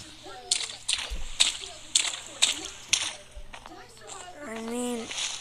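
A character splashes through water in an off-road role-play video game, with a run of sharp, sloshing splashes at close range and a person talking over them near the end.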